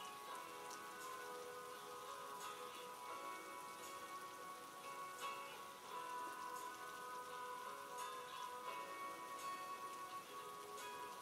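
Driving rain falls steadily in a city of concrete tower blocks, a faint, even wash of drops pattering on surfaces throughout, with no voices.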